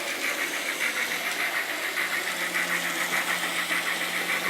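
An N scale model train locomotive's sound card running while overheating, a loud, continuous mechanical engine drone with a rapid rhythmic throb, close and steady throughout.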